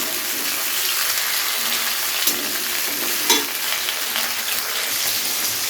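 Papaya and yard-long beans sizzle together in hot oil in a pan, a steady close frying hiss with a couple of sharp stirring clatters partway through.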